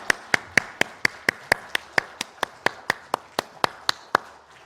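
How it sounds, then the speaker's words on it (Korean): A church congregation claps in a steady, rhythmic beat during a Sunday worship service, about four sharp claps per second, clear and evenly spaced, with no talk. "하나님께 영광의 박수 올려드리겠습니다."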